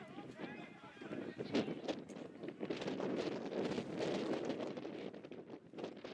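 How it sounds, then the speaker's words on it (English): Wind buffets a camera microphone at Johnny Unitas Stadium during a college men's lacrosse game, a constant rough rumbling gust with people talking over it. "Wind whipping at Johnny Unitas Stadium today. You can hear it on the camera."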